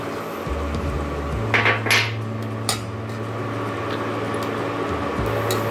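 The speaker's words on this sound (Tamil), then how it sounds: "இப்போ நம்ம எடுத்து வச்சுருக்க ரைஸையும் இதில் கொட்டி கலரிக்கலாம்." Cooked rice tipped into a pan of sautéed vegetables and mixed for egg fried rice, with a few sharp metallic scrapes and clanks of a utensil against the pan over a low steady hum.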